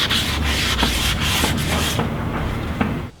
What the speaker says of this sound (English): So now I'm doing really slow, just like a little bit of sanding, just so the paint gets well on the metal.